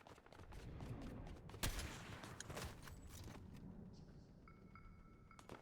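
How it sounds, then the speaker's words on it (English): Gunfire in a Fortnite match: a sharp, loud shot stands out near the middle, surrounded by scattered, more distant pops and rattling bursts over a steady background din. "Gunshots"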